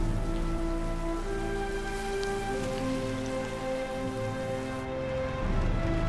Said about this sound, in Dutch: Maar het regent weer al.